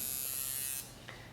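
A tattoo machine drives ink into skin with a steady, high-pitched electric buzz that cuts off abruptly partway through, leaving a faint, quiet background.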